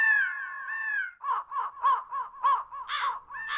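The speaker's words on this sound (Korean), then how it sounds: "까마귀는 보통 검은색의 외형과 불길한 울음소리 탓에 흉조로 여겨지는 것이 일반적이지만" A crow caws alone, one long drawn call followed by a rapid series of short, harsh caws, loud and close against a silent background.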